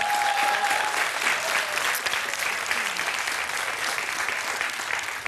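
A studio audience at a televised Swedish BingoLotto lottery show gives sustained, dense applause. The clapping is loud and even across the whole stretch, with a faint crowd murmur beneath.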